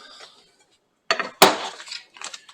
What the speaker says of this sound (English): I'm going to get the bowl ready for the meal.